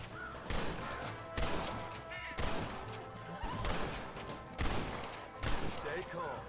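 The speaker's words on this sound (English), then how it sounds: "Is he shooting at them?" Gunshots in the Western video game Red Dead Redemption, a series of sharp cracks spaced every second or so over a busy game soundscape, fairly distant and moderate in level.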